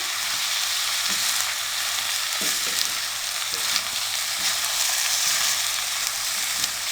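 Ground spices, chilli, coriander and turmeric powder are mixed in a frying pan with onion and tomato for a bitter gourd curry, with a steady close sizzle and occasional light scrapes of stirring throughout and no talking.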